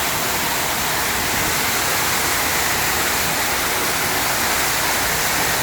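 A loud, steady rush of water pours continuously into a nearly empty off-grid storage tank during a delivery, a dense hiss with no breaks and no voices.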